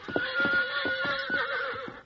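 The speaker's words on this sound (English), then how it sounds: "My horse is getting restless." A restless horse whinnies in a long, wavering neigh, with a few clip-clop hoof steps mixed in, close and fairly loud with no talk over it.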